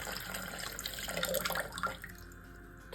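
Water poured from a tap into a container on a kitchen scale while preparing gluten-free bread dough, a steady close trickle and splash that thins out toward the end, with no talking.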